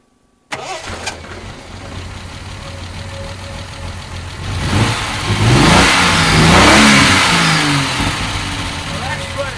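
A classic Triumph TR6 with a fuel injection fault fires up with a sharp start, settles into a rough idle, then revs loudly through several rising and falling swells, close up with people talking over it.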